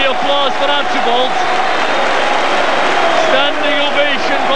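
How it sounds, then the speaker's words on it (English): Hibernian fans at a 1988 football match against Celtic give Steve Archibald a standing ovation, sustained loud crowd applause washing across the stadium while a commentator talks over it throughout. "Standing ovation from the Hibs fans"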